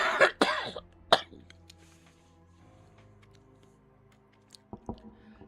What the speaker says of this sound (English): And sorry for my cough.